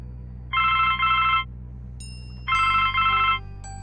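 A telephone in The Blackwell Legacy adventure game rings twice, each ring a pair of bright electronic trills separated by a short pause, clear over a faint steady background hum.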